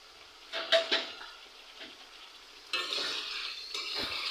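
Broiler chicken pieces frying in a pan, with a soft steady sizzle under scraping and clattering from stirring, several quick scrapes early on and a louder sizzle that swells partway through, close and quiet.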